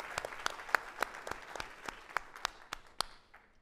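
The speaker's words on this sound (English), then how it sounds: "Big round of applause." Small audience claps for a scored contestant, sparse distinct hand claps in an uneven rhythm, fairly quiet and thinning out toward the end.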